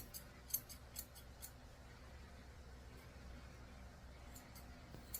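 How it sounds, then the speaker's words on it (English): Curved grooming scissors snip at a Pomeranian mix's leg fur in a quiet room, giving a few faint, crisp close-up clicks spaced irregularly, with most cuts near the start. "I'm using my curved scissors just to trim her leg up."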